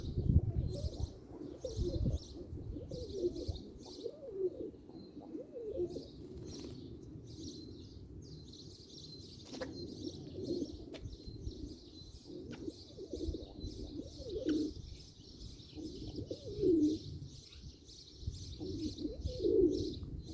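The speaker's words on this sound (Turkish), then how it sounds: "Yine kuş cıvıltıları fon müziği olarak alttan geliyor" Birds chirp and tweet in the background throughout on a hot day, with soft pigeon cooing lower down and an occasional flutter of wings, no voices.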